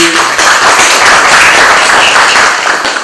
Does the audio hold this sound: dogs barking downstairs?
no